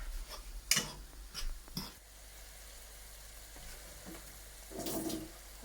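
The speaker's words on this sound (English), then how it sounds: "Just give that a bit of a stir." Herbs being stirred into a frying pan while cooking Caribbean-style chickpeas and kale, a few scraping clicks of the utensil over a faint, steady sizzle, with quiet gaps between stirs.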